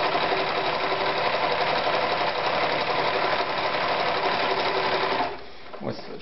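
A Privileg Super Automatik 5021 sewing machine runs a straight stitch with a fast, even mechanical whirr and rapid needle ticking, loud and close, then stops abruptly near the end, leaving a few faint clicks.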